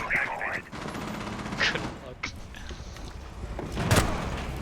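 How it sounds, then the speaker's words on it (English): Rapid bursts of gunfire in a tactical team shooter game, with one team's players firing on their own teammates, crackle across the whole clip with a heavy cluster near the end, while players talk over the shots. "Stop shooting our teammates!"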